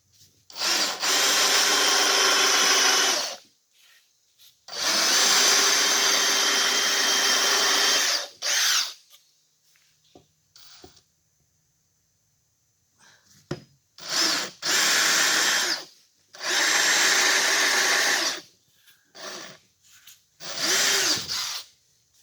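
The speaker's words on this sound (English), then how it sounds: "We'll countersink these two here." A power drill countersinks screw holes in a serving tray in several loud, sustained whirring bursts separated by short pauses and faint handling noises, with no talking.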